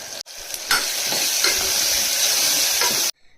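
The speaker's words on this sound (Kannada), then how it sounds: "ಟೊಮೆಟೊ ಮತ್ತು ಈರುಳ್ಳಿ ಪೇಸ್ಟ್ನ ಹಾಕೋತಿದ್ದೀನಿ." Tomato and onion paste frying in a pan for mutton gravy, a steady close sizzle with a few stirring scrapes, running loud and even for about three seconds before cutting off abruptly.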